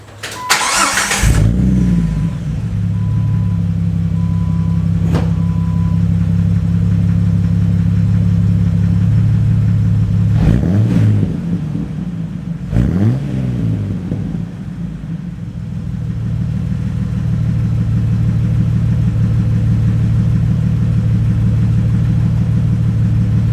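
A Jeep Wrangler TJ with a Flowmaster exhaust starts warm, then idles with a deep rumbling exhaust, revved briefly twice before settling back into a steady throaty idle.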